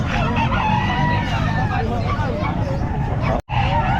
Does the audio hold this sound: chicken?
yes